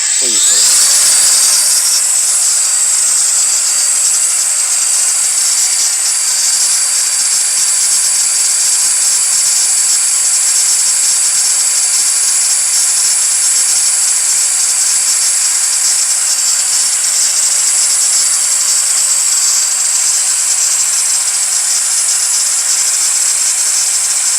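A cordless Metabo or Makita angle grinder spins up and runs at full speed, giving a loud, steady high-pitched whine that holds unbroken for over twenty seconds at close range.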